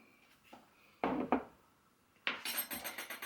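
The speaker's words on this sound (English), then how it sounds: "Give it a quick stir to combine." A spoon stirring salt into bread flour in a bowl for no-knead bread, with a couple of sharp scraping clinks, then a burst of rapid rhythmic scraping and tapping against the bowl, close and clear.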